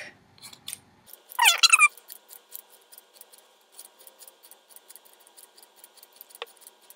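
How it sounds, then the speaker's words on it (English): Scissors snip and trim fur on sewn costume cat ears, a short close burst of crisp squeaky cuts followed by faint scattered clicks in a quiet room. "once you're done sewing, you can just trim up all the fur"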